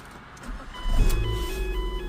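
A 2008 Ford Fiesta with a 1.3 MPI petrol engine and 188,000 km on it starts after a quiet moment, cranking briefly before settling into a steady, close idle with no talk.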